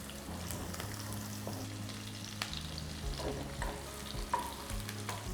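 Sliced onions and slit green chillies frying in a pressure cooker for masoor dal pulao, given a quick stir: a steady close sizzle with soft scraping stir strokes and a few light clinks, no voices.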